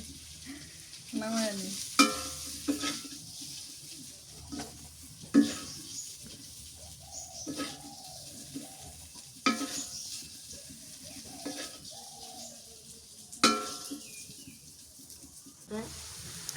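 Pointed gourd (potol) is stirred and fried in a pan in a village home kitchen. A quiet sizzle runs throughout, with irregular clinks and scrapes of the utensil against the pan and people talking nearby.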